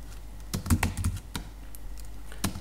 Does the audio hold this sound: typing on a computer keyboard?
yes